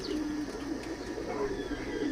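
Pigeons cooing at a feeding spot where they crowd for food among ducks and chickens, a soft continuous murmur of low coos over steady background noise.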